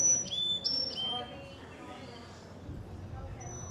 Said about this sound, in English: That's a Carolina chickadee.